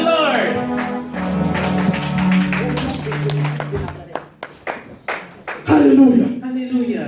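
A church congregation claps and applauds during a worship service, with steady rhythmic clapping mixed with loud voices and singing, ending in scattered sharp claps.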